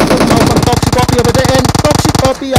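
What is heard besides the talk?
gunshots in the video game PUBG Mobile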